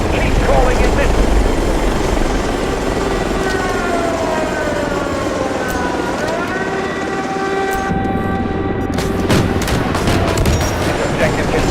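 An armed helicopter in the video game Delta Force, with a loud, steady rotor and engine roar and rising and falling turbine whine, mixed with battle noise throughout.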